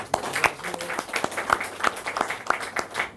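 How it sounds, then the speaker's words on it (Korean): Scattered applause from a small gathering of Democratic Party members in Chungbuk welcoming an introduced guest, a few sharp individual claps in uneven rhythm, fairly close and moderate in volume. "한번 한번 호명할 때마다 박수로 환영해 주시길 부탁드리겠습니다"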